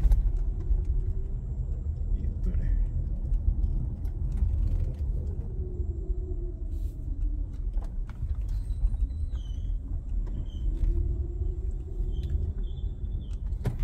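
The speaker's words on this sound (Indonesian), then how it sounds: "tekan gue puter-puter setirnya gitu, gue mainin, dia tuh ada kayak suara gledek-gledeknya" A car on a drive from PIK to BSD gives a continuous low rumble as its steering wheel is turned, with scattered faint clicks and knocks and a brief spoken remark.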